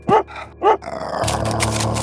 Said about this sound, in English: my dog is searching for prisoners